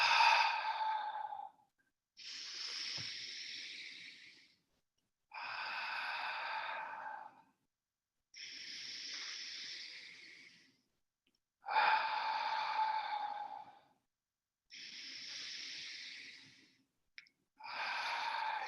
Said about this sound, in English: we're going to take just a few minutes of breathing slowly in through the nose,